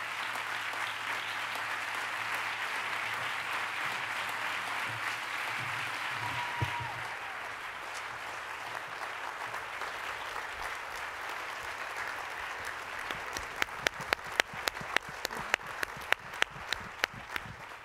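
An audience at the Radcliffe Medal Ceremony breaks into dense, sustained applause that fills the hall, then thins into scattered individual claps toward the end.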